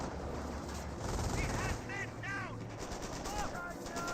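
An MG42 machine gun rattles off sustained bursts in a Company of Heroes battle, fairly faint and mixed with distant explosions and battlefield noise, while a commentator talks over it.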